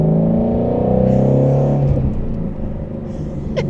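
A Ford Shelby GT350 with its 5.0-litre flat-plane-crank V8 revs up close and loud, a rising buzzy engine roar that holds, then drops back to a rumbling idle.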